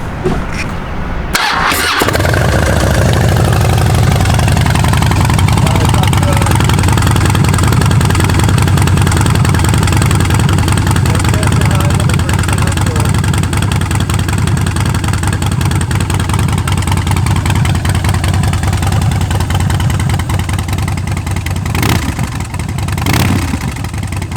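A Harley-Davidson Street Bob motorcycle engine cranks and fires, then settles into a loud, steady, close-up idle that runs uninterrupted for over twenty seconds with no talking.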